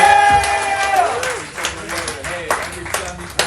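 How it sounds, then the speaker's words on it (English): Brief burst of audience clapping and scattered cheering for a comedian at a live comedy show, following a host's voice over a mic, with the applause thinning into a few isolated claps. "Your next comedian, start clapping right now."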